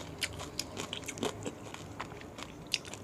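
Close, crisp bites and crunchy chewing on crispy fried pork belly served with spicy papaya salad, a series of sharp crackling crunches at an irregular rhythm with no talking.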